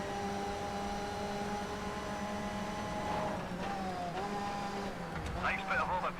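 Race car engines drone with steady harmonic tones in Toca Race Driver 3 as cars run close in a slipstream and move to overtake, pitch shifting near the end; a voice talks over the engines.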